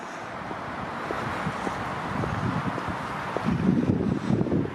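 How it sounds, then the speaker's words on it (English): Wind gusts across an open railway yard at Bescot on a cold, wet, breezy day, making a steady, low rumbling buffet against the microphone that strengthens toward the end. "It's a rather cold and wet and slightly breezy day here at Bescot"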